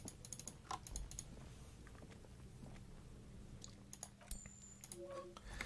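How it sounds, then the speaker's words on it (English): Soft, quick keyboard typing runs faintly in the background of a Disco Elysium scene, a steady patter of keystrokes under a low ambient hum. "You hear typing in the background."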